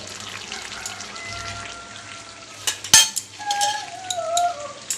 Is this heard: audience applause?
no